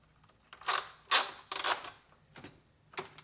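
An Agreatby e-bike hitch rack with ramp folds up in a few loud mechanical clacks and creaks, metal parts shifting and locking in separate bursts close by, no speech.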